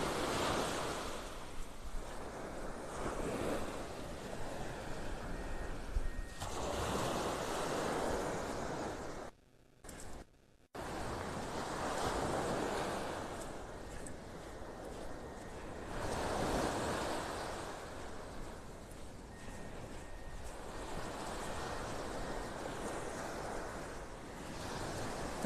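Ocean surf rolls in steadily at Vanderbilt Beach in North Naples, Florida, a continuous broad wash of breaking waves with wind buffeting the microphone and a brief dropout partway through.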